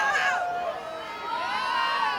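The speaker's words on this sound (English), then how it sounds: "You've got cheers and applause, crowd reactions to things." A sports crowd roars and cheers, with high rising shouts and whoops standing out over a broad murmur of many voices; the cheer swells, dips briefly, then surges again.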